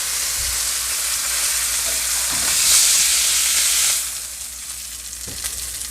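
Onions frying in a pan, a bright steady hiss of sizzling oil that swells briefly then eases, with a couple of soft knocks, close and without talk.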